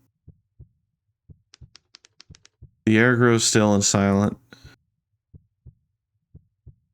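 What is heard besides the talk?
heartbeat getting faster in a video game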